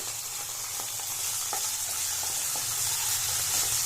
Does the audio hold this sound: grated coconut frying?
yes